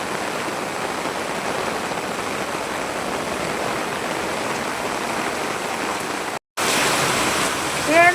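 Rainwater rushing through a flooded street, a steady broadband wash of flowing water, briefly cut off near the end before resuming with a faint higher tone.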